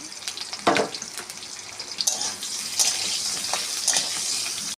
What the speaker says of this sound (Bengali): অল্প তেল দিয়ে আলু ভেজে নেব।